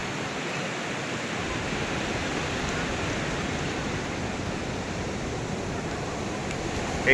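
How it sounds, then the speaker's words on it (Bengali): Sea waves breaking on the wide Blue Flag beach at Puri, a dense, unbroken roar of surf with no distinct individual breaks and no voices. "আস্তে আস্তে বেশ ভালোই ঢেউয়ের বহর কিন্তু বাড়ছে"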